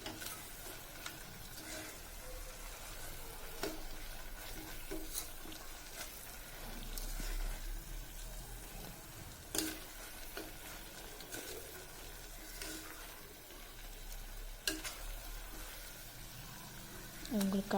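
Butter is stirred into tomato rice in a pan, a quiet, steady sizzle of frying with soft scraping strokes and occasional clicks of the spoon against the pan throughout.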